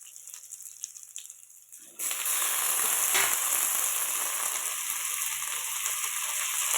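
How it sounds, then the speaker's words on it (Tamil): Tomatoes sizzle and fry loudly in a hot pan for curry leaf chutney. The steady, close sizzling starts abruptly after a quieter stretch and runs on alone, with no talk. "தக்காளி ஆட் பண்ணி நல்லா கொஞ்சம் ஃப்ரை ஆகட்டும்"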